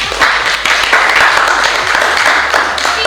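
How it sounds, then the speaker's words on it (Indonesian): Students clapping in a classroom chemistry lesson, a short, loud burst of close hand claps lasting about three seconds. "tepuk tangan untuk itu"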